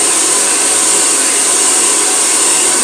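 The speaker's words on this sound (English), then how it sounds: "So I'm going to turn on my blow dryer." A hair blow dryer running continuously, loud and close, a steady high whooshing roar with no talk.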